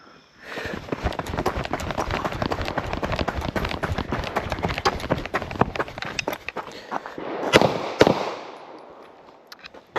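Two sharp, loud pistol shots crack in quick succession during a range drill, preceded by several seconds of dense, rapid clattering like quick footsteps and gear movement; no talking.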